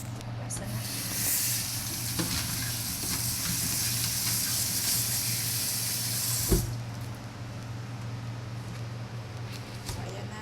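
Something is washed under steadily running water, a broad rushing splash with a low hum beneath that continues for several seconds and then cuts off abruptly, leaving quieter background noise.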